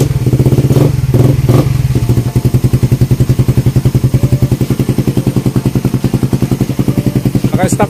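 A motorcycle engine with its stock exhaust pipe idles loud and close with a quick, even pulsing chug. A few bursts of revving come at the start, and then it settles into a steady idle.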